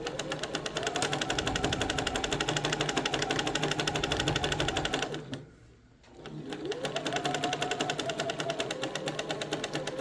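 A sewing machine stitches a shirt pocket in a steady, close whirring run, stops briefly for a pivot at the corner, then whirs on again just as loudly.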